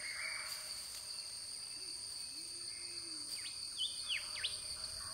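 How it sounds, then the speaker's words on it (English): Rainbow pitta calls ring out over a constant high insect drone in monsoon-season Australian forest, a few clear whistled notes, some swooping, moderately distant against the steady background. "The rainbow pitta changes suddenly from shy recluse to noisy bird of action."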